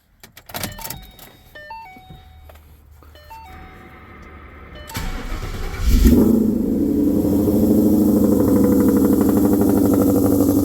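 Interior chimes and clicks give way to a 2014 Mustang GT V8 cranking and catching, fitted with 1-7/8 inch longtube headers and a 3 inch X pipe, settling into a loud, steady, rumbling idle close by.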